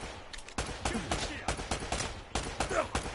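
Enemy gunfire in the Uncharted video game (Nathan Drake Collection): a string of sharp, loud shots in irregular bursts spread across the clip, with close impacts and some background clatter.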